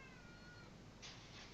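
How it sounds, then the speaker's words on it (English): A cat meows faintly indoors, its thin tonal calls sitting low in a quiet, hissy room, with a brighter burst near the end. "Yeah, it's a cat."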